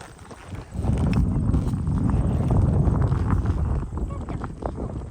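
A ridden horse's hooves clip-clopping on a farm in a steady walking rhythm, with wind noise rushing against the microphone.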